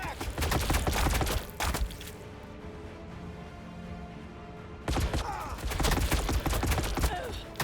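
Gunfire in the Warhammer 40k Battlesector video game comes as dense, loud bursts of rapid shots, with a quieter rumbling lull in the middle before the volleys start up again.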